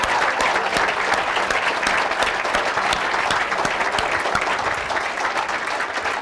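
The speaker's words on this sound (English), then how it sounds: "Could everybody please give a round of applause for my son David," Warm, sustained applause from a library audience after a talk about Jimmy Buffett's songs, dense even clapping that holds loud and steady throughout with no speech over it.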